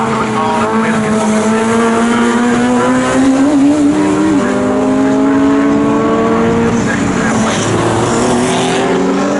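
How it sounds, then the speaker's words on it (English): A saloon or hatchback race car at Snetterton circuit roars loudly and steadily over the start-finish line, engine pitch rising through the gears then dropping as it passes, with a commentator speaking over the engine noise. "It would be the number 52 car, I would have thought, which would be Stephen McDonald over the start finish line"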